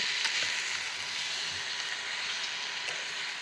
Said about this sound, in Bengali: মশলাটার সাথে আলু সয়াবিন সব কিছু আমি ভালো করে কষিয়ে নেব